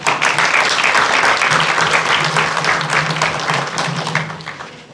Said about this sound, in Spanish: La recibimos con fuertes palmas